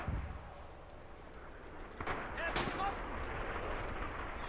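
Explosions and gunfire in the WWII shooter Red Orchestra 2 (GOTY Edition), a steady rumble of distant blasts with a sharper burst near the middle and continuous battle noise throughout.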